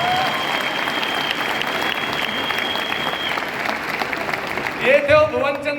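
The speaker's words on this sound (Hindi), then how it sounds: "बजाओ तालियां" A seminar audience in a hall breaks into loud sustained clapping, a dense even roar of applause with a faint steady tone running through it and a brief voice near the end.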